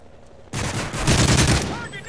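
A burst of loud automatic gunfire from Modern Warfare 3 erupts abruptly after a short quiet moment, a dense close rattle lasting over a second before easing slightly.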